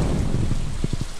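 Steady rain hisses in the Stardew Valley video game, with low rumbling thunder pulses near the end, a dense continuous wash of weather sound.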